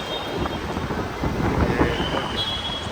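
Heavy rain pours down in a dense, constant roar, with low rumbling gusts beneath it and no one talking.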